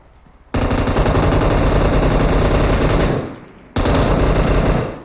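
Sustained automatic gunfire in PUBG Mobile, a loud dense rattle of rapid shots lasting a few seconds, a short pause, then another burst, close and dominating with no talk.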